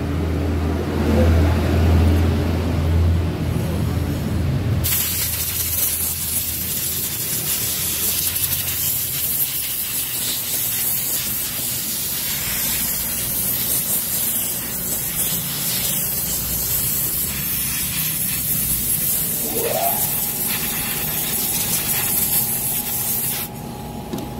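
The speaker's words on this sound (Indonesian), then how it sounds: "sebelum dipasang kita semprot dulu saja" A spray can hisses cleaner onto a part of a Honda Scoopy Fi motorcycle in one long, steady, close burst that starts abruptly after a few seconds and runs on to the end.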